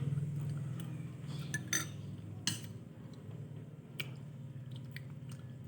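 Eating kinilaw and spicy papaya with chili, with a few sharp clinks of cutlery against a dish and soft chewing, close and quiet against a low background hum.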